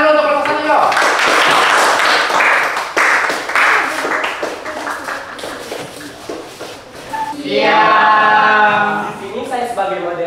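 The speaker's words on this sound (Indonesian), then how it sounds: "Tepuk tangan dulu untuk kelompok 1 yuk." A classroom group claps for the first presenting group before their presentation, a dense burst of applause with voices over it, then a person speaks clearly near the end.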